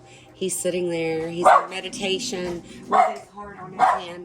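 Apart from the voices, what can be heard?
dogs barking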